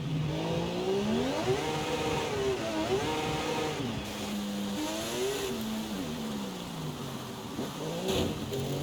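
Turbocharged car engine drifting in Forza Horizon 5 on a highway map, a steady loud roar rising and falling in pitch as revs swing, with a brief turbo flutter near the end.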